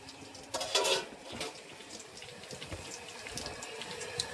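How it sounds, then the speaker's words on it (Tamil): Rain falls on a fishing boat out at sea, a steady broadband hiss of drops with a louder splashing burst early on, continuing evenly throughout with no voices. "மழை பெய்யுது பார்த்தீங்களா மக்களே"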